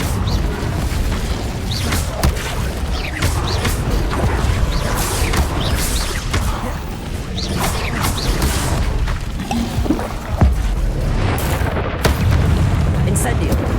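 Incendio fire spell blasts in Hogwarts Legacy, dense rumbling whooshes and booms layered with other combat spell effects, loud and continuous throughout with no pauses.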